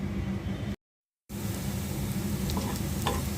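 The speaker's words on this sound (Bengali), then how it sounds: "পেঁয়াজ আর রসুন ভেজে নিচ্ছি" Onion and garlic frying in hot oil as a tempering for lentil dal, a dense continuous sizzle close by that cuts out briefly and then resumes at the same level.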